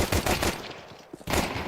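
Rapid automatic gunfire in a Counter-Strike esports match, loud bursts at the start and again at the end with a quieter gap between, no talk over it.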